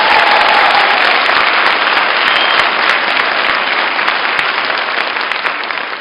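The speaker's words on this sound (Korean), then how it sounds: "박수 소리가 좀 시들어가고 있습니다" A lecture audience at a special talk at Seoul Digital University claps, a loud, dense and continuous applause that tapers slightly toward the end, with no voices over it.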